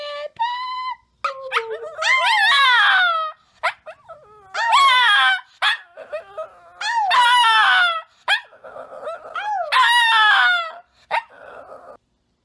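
A dog howls in repeated long, wavering, rising-and-falling cries broken by short yips and whimpers, several drawn-out howl phrases close to the microphone over about twelve seconds.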